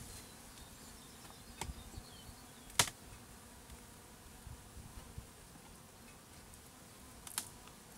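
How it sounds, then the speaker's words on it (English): Honey bees buzz steadily around an opened, strong hive during a beekeeping inspection, a soft, continuous hum with a few brief closer clicks and knocks. "And this shows me the bees now."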